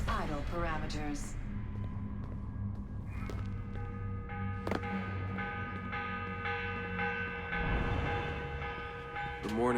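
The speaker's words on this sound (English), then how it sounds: "The morning bell. God, I hated that. Ringing 5 days a week just before dawn." A morning bell tolls in Assassin's Creed Revelations with a few struck, ringing peals whose tones linger. It sits within busy game ambience where voices are audible.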